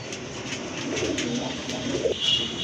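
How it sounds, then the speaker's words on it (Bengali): Several pigeons coo in soft, rolling murmurs close by, overlapping one another against a faint background hum; a pair of Mukkhi-tail (fantail) pigeons among them. "এখানে কিন্তু এক জোড়া মুসলদম কবুতর আছে"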